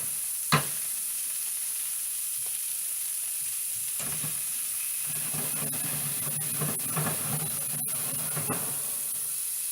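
Butter sizzles in a pan with browned garlic, a steady hiss that flares up after a sharp clink near the start and grows busier with crackles and stirring toward the end, with no talk.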